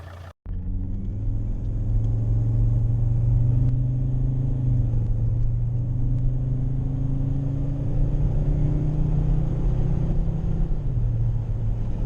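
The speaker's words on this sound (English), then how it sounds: "The engines can be a little bit noisy compared to the competition" A first-generation Volvo XC90 with the 2.4 D5 diesel engine cruises on the road. A steady, loud, low droning engine and road rumble runs continuously from the cabin, with only slight shifts in pitch and no talking.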